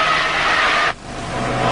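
A Trabant 601 car engine drones loudly and steadily, cuts off abruptly partway through, then slowly swells back up.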